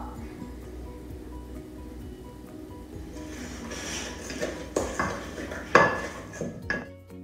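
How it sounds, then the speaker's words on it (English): Cookie dough being mixed in a bowl, with a soft scraping and stirring texture that builds into louder clinks and knocks of a utensil against the bowl toward the end, no talking. "Mix it up."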